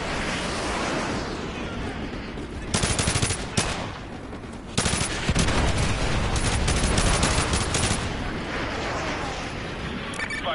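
Heavy gunfire in Call of Duty Modern Warfare 2 Remastered: loud, sustained automatic bursts over a constant roar of battle, growing more intense midway before easing off.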